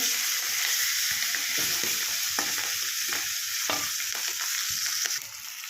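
Dhela fish sizzle steadily in hot oil, with repeated scraping and tapping of a utensil in the pan before the crackle quiets slightly at the end.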